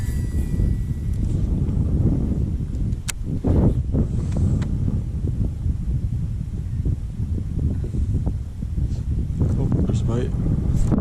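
Strong wind blows steadily across the microphone on open water during kayak bass fishing, a constant loud rumbling roar, with someone talking over it and small knocks and splashes.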